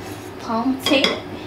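A metal cooking pot is picked up and set down in a kitchen, giving two close, ringing clanks with a short metallic resonance.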